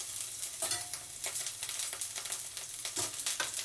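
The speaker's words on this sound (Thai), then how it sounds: "บิวซังก็เลยมาเจียวกระเทียมก่อน" Garlic frying in a pan for a chili paste chicken stir-fry, a steady close sizzle with repeated scraping and stirring strokes and no talking.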